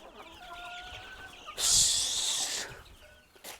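Several free-range chickens cluck close by as they are herded into a shed, then a loud hissing rush of noise takes over for about a second before fading back to the clucking.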